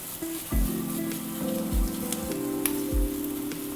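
Shrimp cutlet mixture sizzles in hot oil with a steady crackling hiss, and soft thumps come as pieces are added to the pan.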